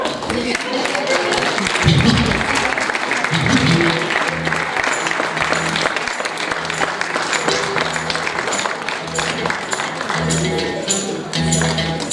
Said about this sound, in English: Let's give a round of applause for Dr. Ire Ayoha.